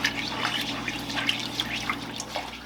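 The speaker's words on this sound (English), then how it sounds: "our sauce is bubbling and it's starting to thicken up a little bit." Half-and-half sauce thickened with flour bubbles at a simmer in a pan, a steady soft wet popping and fizzing with scattered small bursts, close and fairly quiet, with no voices.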